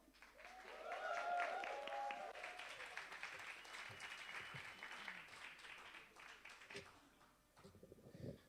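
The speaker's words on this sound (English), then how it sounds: "you'd put a little extra love, energy, and enthusiasm into your applause" Audience applause welcoming the first act onto the stage at a live comedy night at The Bedford, swelling early, then settling into steady broadband clapping with some voices and cheers, tapering off near the end.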